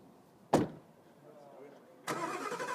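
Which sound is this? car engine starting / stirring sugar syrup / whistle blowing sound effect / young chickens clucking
car engine starting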